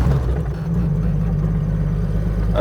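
A Jeep YJ engine in 4 high labors up a snowy hill, a steady, loud low drone with a slight rise in revs near the end.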